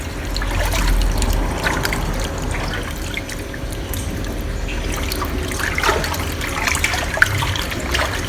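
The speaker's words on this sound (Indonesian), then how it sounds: "supaya airnya cepat terkuras" Water trickling and gurgling steadily as a fish tank drains, a continuous close splashing flow with faint drips and clinks throughout.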